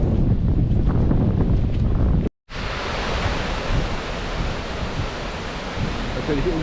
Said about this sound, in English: the waterfall's coming down with such power